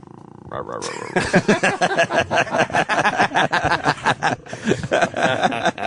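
A person makes a drawn-out, growly cat-like yowl and purring noises, rising into a continuous raspy vocal imitation mixed with chuckling.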